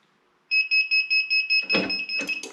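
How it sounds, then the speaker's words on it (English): A loud electronic timer beep pulses rapidly in a steady, even rhythm, close by, during laser engraving of a patched hat, with a few clattering handling noises near the end. "it's going to beep"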